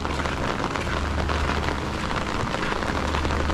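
Steady rain pattering down, a dense constant hiss with a low rumble underneath, no voices heard.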